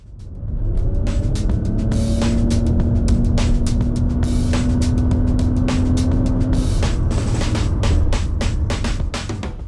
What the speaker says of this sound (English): we're going to do 0 to 60 kilometers an hour and 60 to 100 kilometers an hour